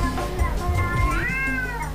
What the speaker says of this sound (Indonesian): Kok ada suara kucing yang tadi?